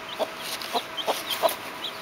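Baby chicks peck and cluck in a series of short, soft chirps and taps spaced about every quarter second, close by and faint.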